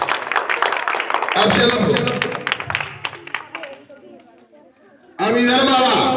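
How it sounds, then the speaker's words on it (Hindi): A classroom of students claps hands for a classmate during a maths lesson; a teacher talks first, then a short, loud burst of group clapping breaks out near the end. "वेरी फाइन, ताली बजा दो"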